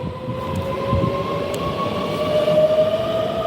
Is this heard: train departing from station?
yes